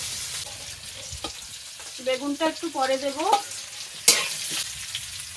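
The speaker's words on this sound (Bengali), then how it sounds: "এবার আমি আলুগুলো দিয়ে আবার একটু কষিয়ে নেবো" Potatoes fry and get stirred with spices, green chillies and paanch phoron in a pan for a spinach, brinjal and puti fish curry, the steady sizzle broken by spoon scrapes while someone briefly speaks over it.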